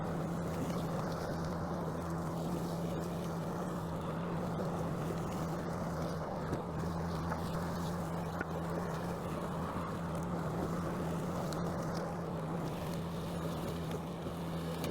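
A Ryobi 40V self-propelled battery push mower running, a steady low motor hum with a constant tone, heard at moderate level over light wind noise, without pauses and with no talking.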